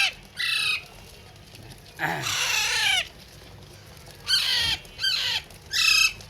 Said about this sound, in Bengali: অরিজিনাল পাকিস্তানি চন্দনা টিয়ার বাচ্চা